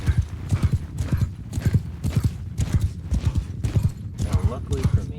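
Horse hooves clip-clop in a steady galloping rhythm as a rider travels in the Mount & Blade Shokuho video game, close and prominent, with occasional neighing.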